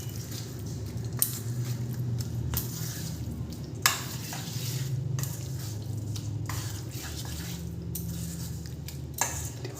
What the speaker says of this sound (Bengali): এরপরে আমি যে সবজিগুলো ভেজে রেখেছিলাম সেই সবজিগুলো এবার দিয়ে দেব। খুব ভালো করে মিশিয়ে নেব।